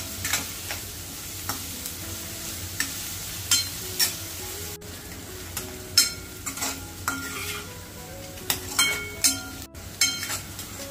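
Chopped onion sautéing in a pan with a little salt for egg bhurji, a steady close sizzle broken by repeated scraping and clinking stirs of a spatula against the pan.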